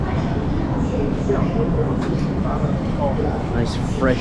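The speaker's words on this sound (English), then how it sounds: "We're going by subway." Subway train riding through Zhejiang, China, a continuous low rumble and rattle of the moving carriage heard from inside, with a few brief squeals and a person talking over it.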